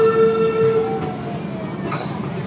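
An amusement park train at Busch Gardens rolls along with a steady rumble, a tonal whistle-like hum fading early on, and faint voices in the background.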